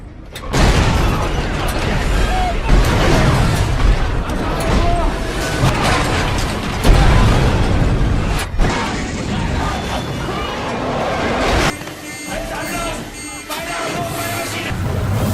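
Depth charges set off at random underwater against a Nazi submarine in the Second World War, heard as loud, dense booming blasts and rumbling crashes that keep rolling over one another, with a sharp burst near the middle and a thinner tail at the end.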